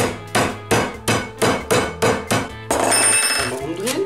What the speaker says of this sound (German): Ich habe hier einen Hammer mit grob und fein.